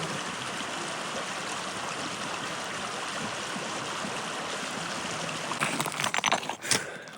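A stream coming down from Sokosti fell in Finnish Lapland rushes and gurgles steadily, a constant close water hiss with some louder sloshing and handling noises near the end, no voices.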